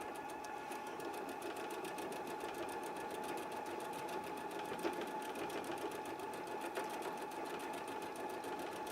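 A Viking EPIC 44 sewing machine runs steadily for the whole stretch, sewing a heavy tapering decorative stitch with a rapid, even mechanical chatter and a constant motor hum, close and uninterrupted.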